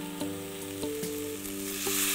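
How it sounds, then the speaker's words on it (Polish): Vegetables with bay leaf and allspice fry in a pan, giving a steady loud sizzle with a few sharp clicks of stirring scattered through it and no talk. "Przez chwilę smażymy cały czas mieszając"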